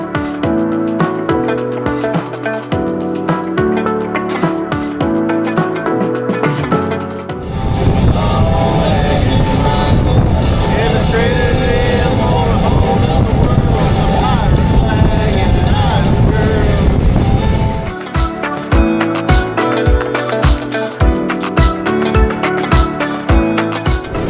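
A small motorboat runs across the Sea of Abaco in the Bahamas, its engine and hull-slap a steady, loud wash with heavy wind buffeting the microphone, partly covered at the start and end by louder music.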